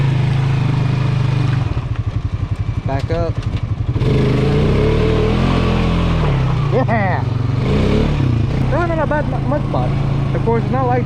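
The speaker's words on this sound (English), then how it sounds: "he's sending it with his mud mower" A mud mower engine drones loudly and steadily nearby, rising and falling with bursts of revving as it churns through mud, while people talk over it.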